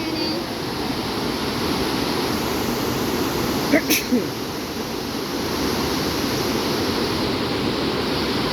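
Rushing water from two forest rivers meeting, a steady broad roar filling the whole clip with no break, and one brief faint knock partway through.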